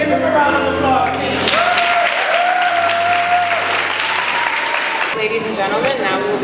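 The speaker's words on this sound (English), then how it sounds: "Give them a round of applause," Loud, sustained applause from a graduation ceremony crowd fills the hall without a break, while a voice speaks over the clapping.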